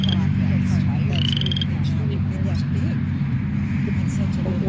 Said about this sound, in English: It's only the males, the frogs, it's the males that do the vocalizing.